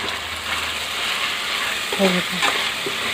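Mutton curry in a pan being stirred, with a soft frying sizzle and a few scraping clinks of the spoon against the pan over roughly three seconds.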